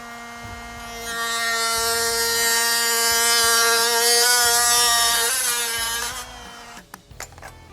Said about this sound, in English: I'm gonna show you how we're gonna cut this with our Dremel